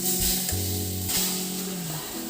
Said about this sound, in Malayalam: മാങ്ങേനെ ചട്ടിയിലിട്ട് നന്നായി ഒന്ന് ഇളക്കി കൊടുക്കാം